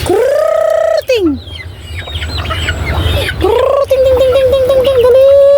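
Backyard chickens kept alongside ducks cluck and squawk loudly up close in repeated drawn-out calls, over a low steady hum.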